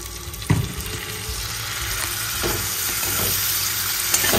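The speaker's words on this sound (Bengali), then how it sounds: "থোড়টা দিয়ে ভালো করে কষিয়ে নেব" Banana stem sautéing with ground spices, including cumin powder, in a pan: a steady, close sizzle with occasional scraping stir knocks, no voices.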